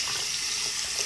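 Water runs from a tap while soapy hands are rinsed in a sink, giving a brief steady rushing splash close by, with slight shifts as the hands move through the stream.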